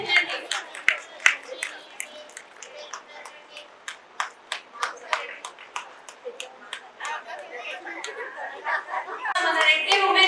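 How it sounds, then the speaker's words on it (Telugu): Audience at a Reddi Women's Association International Women's Day event clapping for an honouree, a run of irregular claps that swells toward the end, with chatter and light laughter underneath. "బయట ఉన్న వాళ్ళకి అందరూ కూడా క్లాప్స్ కొట్టండి"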